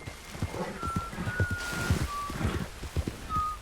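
A character whistles in Red Dead Redemption II: a few thin, clear whistled notes drift over soft hoof clops and a faint rainy outdoor background.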